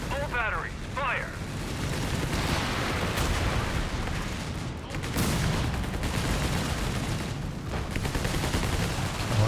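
Artillery battery opening fire in the real-time strategy game Company of Heroes 3, a dense run of booming explosions and gunfire rumbling across a 2v2 battle, with a voice talking over the noise.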